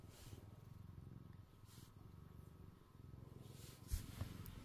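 A limping cat on a bed purrs softly and steadily, a low continuous rumble close by, with a couple of small knocks near the end.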